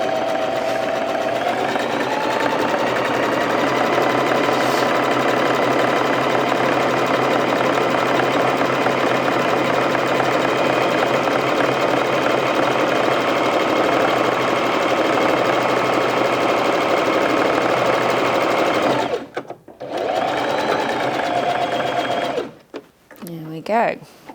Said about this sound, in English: I'm going to drop the presser foot down and make a start sewing.